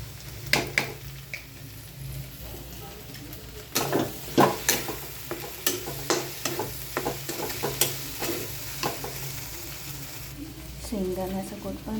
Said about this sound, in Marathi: तर भेंडी आपली चांगली फ्राय झालेली आहे.